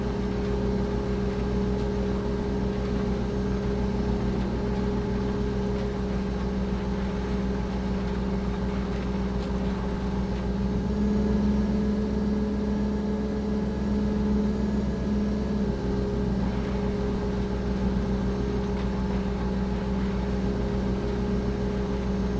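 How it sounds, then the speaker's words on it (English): Farming Simulator 22 tractor pulling a corn planter across an Iowa field produces a steady, droning engine hum with constant low tones, continuous and even for the whole stretch with a brief pitch shift midway, no talking. "I figured you guys would like to enjoy the sounds of the tractor and the planter."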